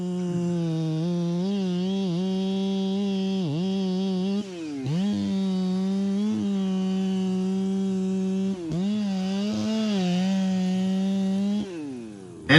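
A chainsaw cuts into a poplar tree, its loud engine holding a steady buzzing pitch that dips and surges as the chain bites, with brief throttle drops, and no voices.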